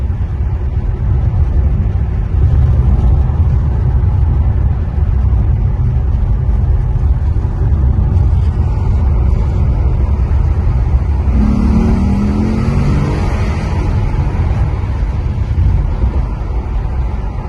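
A roughly twenty-year-old Maserati 4200 accelerates hard, its engine a loud, sustained rumbling roar from inside the car that holds steady with a brief rising note partway through.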